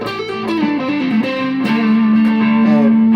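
Squier Affinity HSS Stratocaster electric guitar played through heavy distortion, sustained saturated notes sliding and bending before settling on a loud held tone, with no voices.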